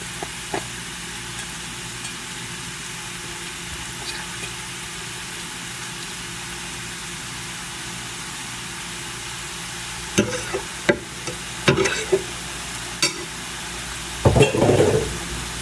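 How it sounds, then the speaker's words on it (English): Sausage fries in a pan, a faint steady sizzle under a low background hum, with a few louder stirring clanks and scrapes near the end. "Let it fry or crust on one side"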